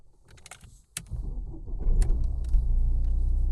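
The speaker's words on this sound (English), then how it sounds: "Start the vehicle" A Mercedes-Benz A-Class starts up after a brief crank, and its engine settles into a low, steady idle rumble heard from inside the car, with a few faint clicks just before.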